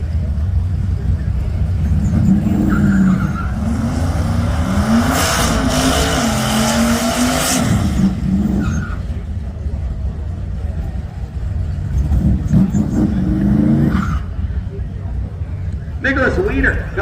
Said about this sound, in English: Now, the Chevy Chevelle on its way.